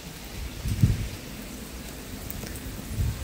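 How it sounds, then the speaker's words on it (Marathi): Light drizzling rain falling over waterlogged farm fields, a soft, steady patter with faint low rumbles rising briefly, no voices. "अजून पण पाऊस चालू आहे बारीक भुरभुर"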